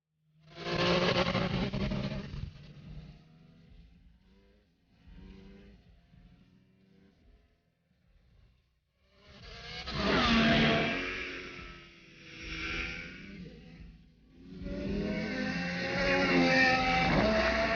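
A race car's engine revs loudly during its first test run, with rising and falling harmonic surges. Bursts come early, a quieter stretch follows in the middle, then strong, sustained revving returns for the final several seconds.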